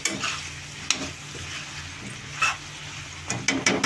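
Eggplant, potato and drumstick curry is turned in a pan with a spoon, scattered scraping knocks over a low sizzle, close up with no talking.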